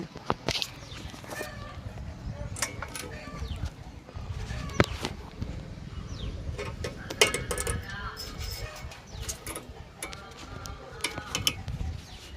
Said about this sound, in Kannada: ರೌಂಡ್ ಶೇಪಲ್ಲಿಲ್ಲ ಈ ಹೋಲ್ಸು, ಹಂಗಾಗಿ ನಮಗೆ ತಿರ್ಗೋದ್ರೆ ಸೌಂಡ್ ಬರುತ್ತೆ. ಮತ್ತು ಗ್ರೀಸು ಕೂಡ ಹಾಕಿಲ್ಲ ನಾನು.